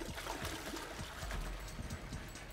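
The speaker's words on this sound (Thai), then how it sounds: "กดชักโครกครับ" A toilet flushes and water rushes and gurgles steadily and continuously throughout, fairly faint and with no voices.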